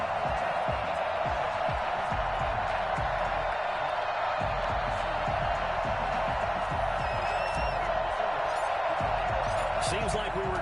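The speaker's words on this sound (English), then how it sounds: "This crowd is ready as their guys get set to match up between the New Orleans Saints and the Baltimore Ravens." Stadium crowd noise roars steadily in an EA Sports NFL football video game before a New Orleans Saints versus Baltimore Ravens matchup, a dense continuous wash of cheering with a commentator talking over it.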